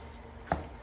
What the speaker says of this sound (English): we'll just break this all up and let it just start cooking